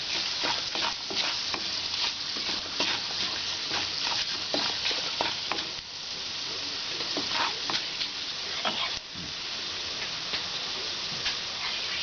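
Turmeric and asafoetida powder fry in hot oil for a lime pickle, a steady bright sizzle with quick stirring clicks and scrapes running throughout, close and fairly loud, with no one talking.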